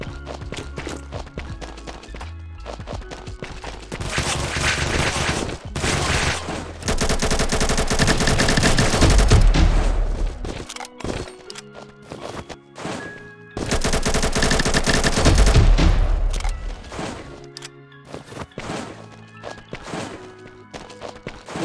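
AK rifle fire in the mobile shooter Combat Master Battle Royale, loud sustained automatic bursts lasting several seconds each, separated by gaps with scattered single shots and clicks.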